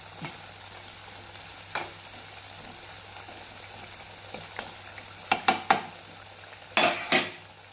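Grated carrot fries gently in oil over a low flame for a homemade carrot skin oil. A soft, continuous sizzle runs throughout, punctuated by several sharp metal spoon clinks and scrapes against the pan, growing busier toward the end.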